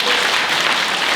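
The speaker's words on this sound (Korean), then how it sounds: "박수 한번 주시죠." Audience applause at a university admission briefing run by the Incheon education office, a short dense burst of clapping from a large seated crowd in a hall.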